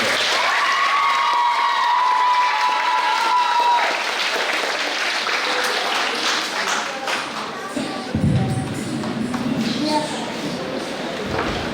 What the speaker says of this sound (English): I think we need to give her another round of applause.